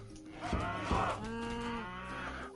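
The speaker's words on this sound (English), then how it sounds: "6 bloody cows over here." Cattle in the Age of Mythology strategy game give a couple of drawn-out, close moos that overlap each other, with no voices present.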